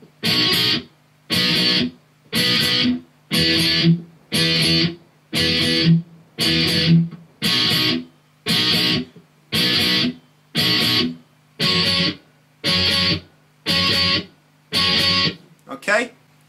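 Electric guitar playing verse B in a lesson, a steady run of about fifteen evenly spaced strummed chord bursts with short gaps, close and clear, ending in a brief final hit.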